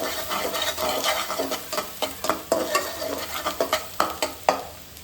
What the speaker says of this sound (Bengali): তেল দিয়ে পেঁয়াজ দিয়ে দিলাম